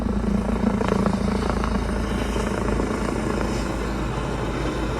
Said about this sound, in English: I never realized how many helicopters there are in Atlantic City